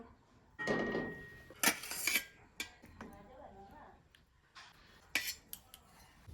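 A metal pot of boiled fish lifted off a kitchen stove: several clanks and scrapes of cookware and utensils, close and fairly sharp, in short bursts separated by quiet pauses.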